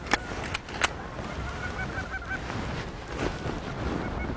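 A large flock of geese honks as the birds fly in during a coastal goose hunt, with a few sharp, close calls at the start followed by a continuous chorus of honking from farther off.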